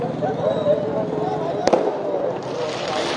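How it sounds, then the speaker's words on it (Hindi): New Year's midnight fireworks at the Ghanta Ghar clock tower in Dehradun crackle and pop in the distance, with one sharp, louder bang, while a reporter talks over the celebration. "जैसे ही 12 बजे लोगों ने यहाँ पे आतिशबाजी शुरू कर दी"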